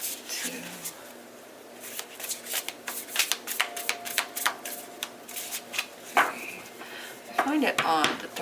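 Tarot cards are shuffled by hand at close range in a series of soft, quick riffling and slapping bursts with brief pauses, quiet and alone without talk.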